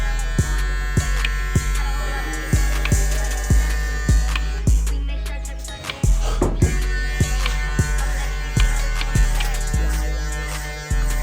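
Electric hair clippers fitted with a number 3 guard, lever fully closed, buzz steadily and loudly up close while cutting hair, with repeated rhythmic dips and knocks as the blade passes through, and a brief muffled bump midway.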